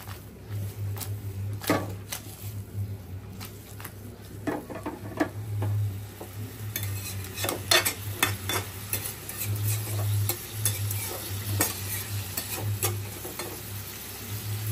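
Metal spatula stirring bitter gourd frying with shrimp in a pan: a steady sizzle runs throughout, with irregular scraping strokes and light clinks, close and moderately loud, no talking.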